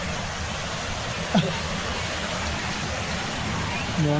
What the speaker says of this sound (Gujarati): ફૂલ વરસાદ બહાર જય ભાડ્યા કરો વરસાદ પડી રહ્યો